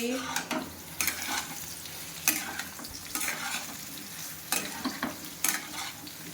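Soybean chunks and potatoes fry in hot oil while being stirred, a steady sizzle punctuated by loud, irregular scraping strokes against the pan, close and with no talking.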